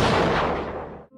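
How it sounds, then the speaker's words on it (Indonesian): A single sharp, heavy sniper rifle shot in a war film cracks loudly and rolls into a booming tail that fades out over about a second. "Miller mencoba melepaskan tembakan yang kedua, namun ternyata tembakannya meleset."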